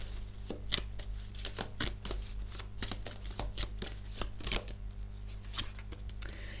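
Tarot-style cards shuffled for a card reading, a quick run of crisp riffling and slapping bursts at close range over a steady low hum, with no talking.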